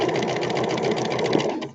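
Sewing machine stitching fabric near the edge toward a pin, a steady fast mechanical whir of rapid needle strokes running continuously and loudly, stopping abruptly at the end.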